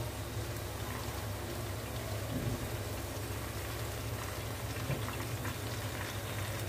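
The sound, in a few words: nendran banana chips sizzling as they fry in oil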